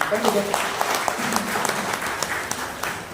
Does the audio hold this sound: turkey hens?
no